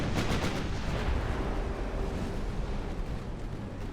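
Naval 11-inch gunfire in Ultimate Admiral: Dreadnoughts, with heavy, booming shots rolling one into another over a rumbling battle bed, loud and continuous.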